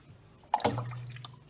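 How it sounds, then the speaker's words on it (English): Lukewarm water is poured into steamed bread dough as a brief splash and trickle that starts abruptly midway and settles into a soft, close pour in an otherwise quiet room. "So I'm going to add my water"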